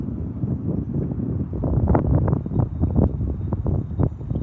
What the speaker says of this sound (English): the wind's starting to raise